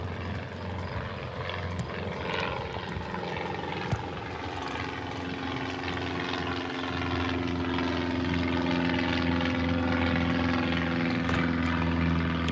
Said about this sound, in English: Right up ahead's one of the planes coming from the Moraine airport.